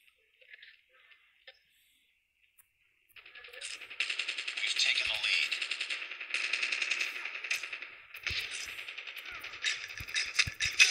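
Rapid gunfire bursts from a Call of Duty Mobile match, loud and dense, with clanging, rattling hits and brief pauses, after a quiet opening with a few faint clicks.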